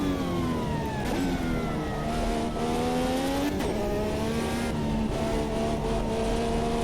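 An IndyCar race car engine in a racing video game revs steadily and loudly throughout, a continuous whine that rises and falls as the car is driven hard, with no speech.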